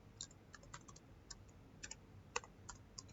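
A username is typed on a computer keyboard, heard as a faint, close series of irregular key clicks with short pauses between bursts.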